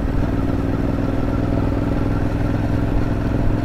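A new Kawasaki Z650 motorcycle rides through traffic, its engine giving a loud, steady, close drone with a rattling edge that holds constant throughout.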